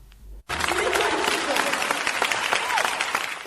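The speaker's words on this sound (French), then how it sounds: "Tout a commencé avec des applaudissements nourris" Sustained applause from the audience at a women filmmakers' sharing gathering in Kara, loud and unbroken after a brief quiet start, with faint voices mixed in.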